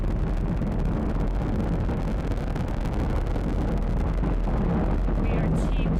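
A SpaceX Falcon 9 rocket with nine Merlin first-stage engines roars in a continuous broadband crackling rumble, loud and unbroken throughout.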